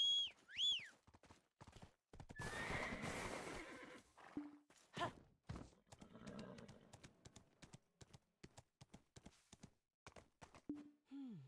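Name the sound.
horse neighing in video game Black Desert Online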